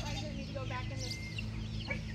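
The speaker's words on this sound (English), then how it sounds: "All these chickens need to go back in." Chickens cluck softly nearby in short, scattered bursts over a low steady background hum.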